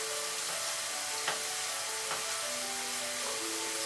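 Onions sizzle and fry in a pan with a steady, close crackle and hiss, with a few brief scraping clacks as they are pushed across the pan.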